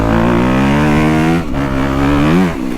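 A Honda CRF250 Works Edition dirt bike's engine revs hard while being ridden on a track, loud and close, with pitch rising through acceleration, dipping briefly on a shift, then climbing again.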